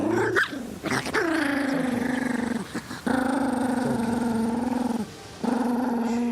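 Pet dog Jojo growls in long, sustained rumbling bouts close by, with a few short breaks between growls and no talking.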